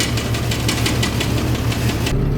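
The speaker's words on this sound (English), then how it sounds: "Sounds like a bolt that's rattling around inside of the motor." The engine of a 1965 Ford Mustang idles with a rapid metallic rattle, like a loose bolt inside, loud and close over a low throbbing rumble that shifts near the end.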